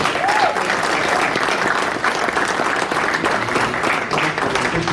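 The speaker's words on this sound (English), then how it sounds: "Please, one more round of applause." An audience gives a round of applause at the close of a session, continuous loud clapping filling the whole stretch.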